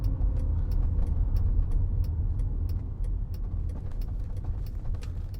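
A BMW car drives past with a steady, moderately loud road and engine rumble, heard from an open-top car amid light rattling and wind.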